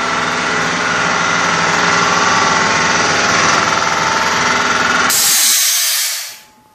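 Spray gun applying the first coat to fiberglass, a loud, steady broadband hiss of air and spray running for about five seconds before cutting off abruptly into near silence.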